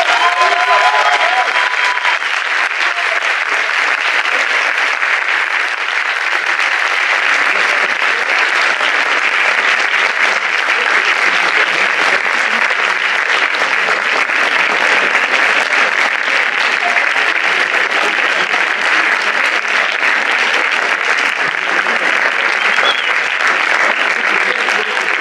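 A large audience at the final of an eloquence competition gives loud, sustained applause that fills the hall evenly from start to finish, a dense wash of clapping with no break.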